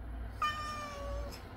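An oriental breed cat gives a single clear, drawn-out meow, close and distinct over quiet indoor background.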